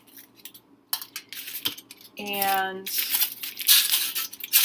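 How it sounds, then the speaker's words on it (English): Used aluminum foil being crumpled by hand for candle making, giving a close, bright, crinkly rustle that builds into a dense crackle after a few faint clinks and a brief spoken word. "I'm just going to crumple up a few pieces of it."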